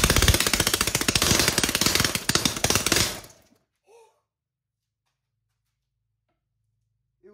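A 3D printed 180cc engine runs under throttle with a loud, rapid, rattling chatter for about three seconds, then cuts out abruptly into near silence with a faint brief sound afterward.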